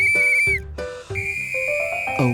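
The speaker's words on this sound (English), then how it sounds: "A whistle." A toy whistle is blown at a pretend doll birthday party, giving loud, shrill, bright tones in several short blasts with brief breaks between them.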